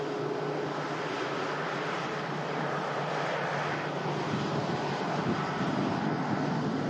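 Steady, loud jet engine roar from a Gulf Air Boeing 787 Dreamliner at Manchester Airport, a continuous broadband rumble that holds evenly throughout with no voices.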